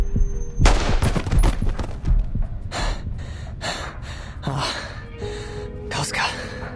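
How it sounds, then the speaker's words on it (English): A gunshot in a video game story cutscene: one sharp, loud blast early on, followed by ringing echoes, heavy breathing and gasps, with dramatic ambience continuing afterward. "Gunshot."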